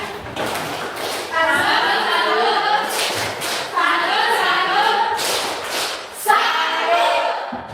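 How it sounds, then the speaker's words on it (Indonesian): Students in a classroom clap for a group after its presentation, in three bursts of applause with short pauses between them. "Tepuk tangan buat mereka."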